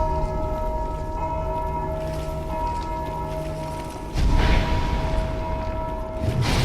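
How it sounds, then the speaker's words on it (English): A bell tolls in the video game Demon's Souls, a sustained ringing tone that lingers and decays, then a deeper boom and rumble swells in, steady and fairly loud with no talking. "I didn't mean to ring the bell!"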